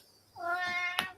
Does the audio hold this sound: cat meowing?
yes